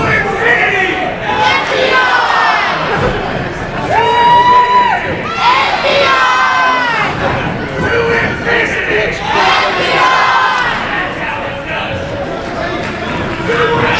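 Wrestling crowd at a pro wrestling show cheering and shouting loudly and continuously, a dense roar of many voices with rising chants and yells throughout.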